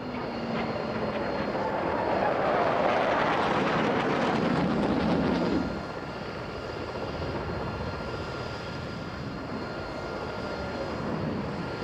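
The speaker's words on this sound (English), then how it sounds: "Then a Crusader and a MiG-29." Jet aircraft at an airshow, a Crusader and a MiG-29 flying past: a loud, broad engine roar swells to a peak over several seconds, then drops abruptly to a lower, steady distant rumble.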